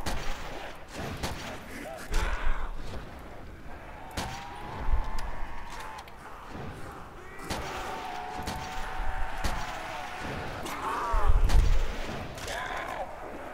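Heavy PTRS rifle shots and other gunfire boom repeatedly in a Call of Duty Nazi Zombies game, loud and reverberant over a droning game soundtrack, with a voice talking in the mix.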